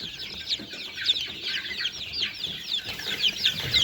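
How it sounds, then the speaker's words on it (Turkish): Many baby chicks, about 85 in a group, peeping in a continuous high chorus with overlapping rapid cheeps, fairly faint and close, with no talking. "Şu an 85 tane civcivimiz var"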